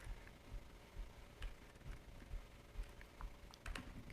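Fingers tap quickly on a computer keyboard while entry details are filled into a form, a soft irregular patter of keystrokes at low level with no voice.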